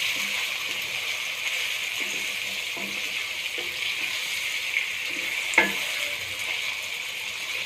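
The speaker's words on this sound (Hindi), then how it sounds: "अब चिकन का कलर चेंज होने तक हम इसे फ्राई करेंगे।" Chicken frying in a pan with salt added, a steady broadband sizzle running throughout, with a few soft clicks and one sharp clack of a utensil against the pan near the end; no talking.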